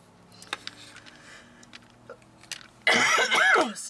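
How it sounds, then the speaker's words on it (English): Cough and throat clearing from a person crafting bead dangles, a loud harsh burst of several coughs near the end after a quiet stretch with faint small clicks. "Still dealing with the allergies and the coughing."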